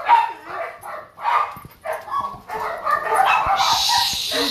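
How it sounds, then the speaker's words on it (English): Several dogs bark and yip excitedly in quick overlapping bursts, close up, with higher-pitched squeals joining toward the end. "Everybody's gonna bark."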